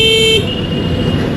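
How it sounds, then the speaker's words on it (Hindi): Horn of an Oben Rorr electric motorbike sounding once, a loud steady tone lasting under half a second at a red light in city traffic, followed by road and traffic noise. "हॉर्न काफ़ी लाउड है।"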